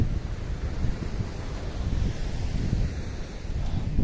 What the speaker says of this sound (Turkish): Deniz çok aşırı dalgalı.